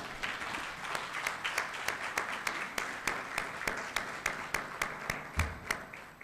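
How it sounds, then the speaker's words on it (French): Applause greets a speaker introduced at the launch of the Ouagadougou Partnership annual meeting, a moderately distant audience clapping steadily with a regular, rhythmic pattern of distinct claps throughout. "Docteur Bamba, sous vos applaudissements"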